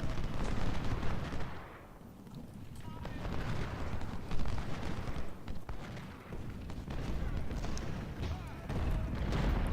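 Musket volleys and battlefield gunfire in the Civil War strategy game Ultimate General: Civil War, a dense rumbling crackle of massed shots with booming bursts, sustained and fairly loud, with someone talking over it.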